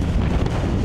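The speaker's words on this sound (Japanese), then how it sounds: "風が強いな、" Strong wind buffets a microphone outdoors in Springfield, Missouri, beside a long-haul truck, a loud low rumbling roar of gusts throughout the brief moment.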